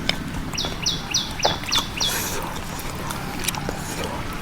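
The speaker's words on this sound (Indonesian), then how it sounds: "Yang gue suka kalau makan di alam itu ada suara burung." Birds chirp and sing outdoors in a natural setting where people are eating, with a run of five quick bright chirps early on over a steady ambient background.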